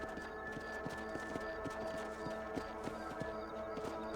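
Horse hooves in Red Dead Redemption, a steady rhythmic clip-clop of a trotting horse, fairly quiet, over a low ambient background.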